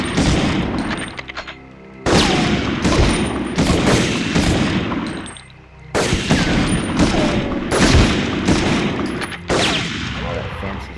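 Dense bursts of rifle and machine-gun fire from the PlayStation game Medal of Honor, loud and close, coming in rapid volleys with short pauses between them.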